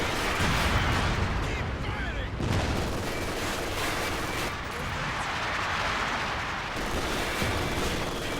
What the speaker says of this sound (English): Man, the amount of indirect fire coming in, this is really big trouble.